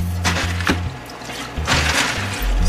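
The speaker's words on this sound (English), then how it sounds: "wash it, throw out the water" Water splashes and sloshes over dried peas as they are rinsed and the water poured out, in short uneven bursts close by.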